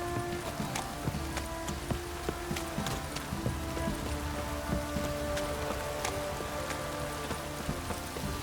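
Heavy downpour in The Witcher 3: a steady, dense hiss of rain drumming on surfaces, with scattered sharp drip-like clicks and faint hoof clip-clops underneath, continuous and fairly quiet throughout.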